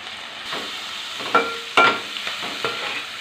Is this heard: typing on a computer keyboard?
no